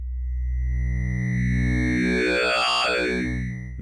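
A squelch bass preset on Ableton Meld synth plays a sustained, heavy sub-bass tone with a warbling, distorted upper sweep, in an old-school dubstep style, loud and alone with no voices.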